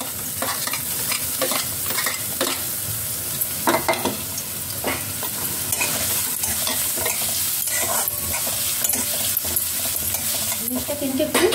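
Onions frying in oil in a pan: a loud, continuous sizzle up close, broken by frequent scraping stirs of a spatula, with no voices over it.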